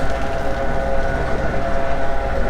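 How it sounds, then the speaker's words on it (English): A bale processor shreds a bale of feed on a farm, giving a loud, steady mechanical roar with a continuous grinding churn that stays even throughout, close by, with no voices. "There's the bale mincing up."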